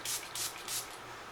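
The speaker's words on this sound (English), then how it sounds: "How much setting spray do people put on?" Bare Minerals Dew Mist setting spray hisses out in three quick, close pumps spaced evenly apart, alone without talk.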